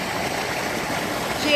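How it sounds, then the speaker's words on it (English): Flash flood water in Eastwood rushes through a flooded car park, a steady loud roaring wash of flowing water close by. "Eastwood flooding, flash flooding. Oh my God, car park full of water."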